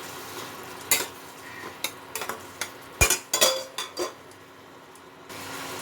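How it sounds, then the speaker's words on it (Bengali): Spice paste for cauliflower keema is stir-fried in a pan with a little water, making a soft sizzle broken by irregular scraping and clanking strokes of a spatula against the pan, several sharp knocks in quick succession. "দিয়ে এটা ভালো মতো কষাতে হবে মশলাটাকে"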